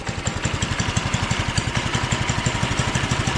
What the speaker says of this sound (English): Why does it idle and move and do all the other mini bike things besides go fast?